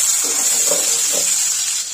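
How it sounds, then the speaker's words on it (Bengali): Chopped onions fry in hot oil left from frying fish, a steady sizzling hiss with faint stirring bumps, close and continuous. "এই তেলে পেঁয়াজ ভেজে নেব।"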